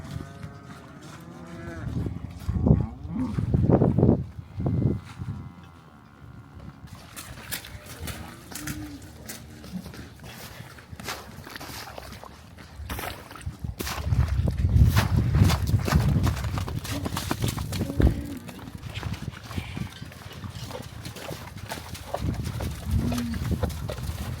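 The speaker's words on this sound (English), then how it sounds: "Next thing we're doing this morning is bringing close-up cows and heifers into our close-up pack in the barn." Close-up cows and heifers moo loudly and repeatedly while they are moved from the corrals into a straw pack barn, with hooves shuffling and clattering between calls and occasional quiet human voices in the background.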